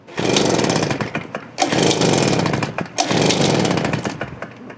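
A Poulan Pro PR46BT backpack blower engine with carburetor trouble runs loud and close, revving in three sustained bursts with brief dips between them.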